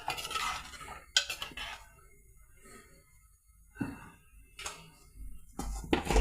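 A spoon scrapes and clinks against a pot as ground coconut paste with cumin, garlic and shallots is stirred into a plantain curry, with a few sharp metallic knocks spaced between quieter stretches.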